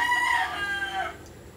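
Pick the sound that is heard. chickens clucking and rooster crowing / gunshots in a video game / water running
chickens clucking and rooster crowing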